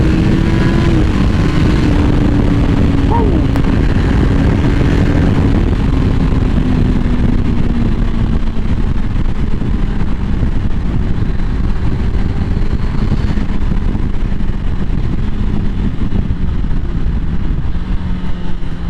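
A motorcycle engine idles and revs loudly up close, its pitch sliding down as the bike rides away, steady and continuous throughout with no talk.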